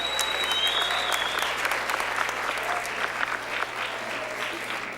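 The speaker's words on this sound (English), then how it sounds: "give it up for Jessica Espinosa" An audience at a school district superintendent awards ceremony claps for award winner Jessica Espinosa, steady, dense applause lasting several seconds in a hall.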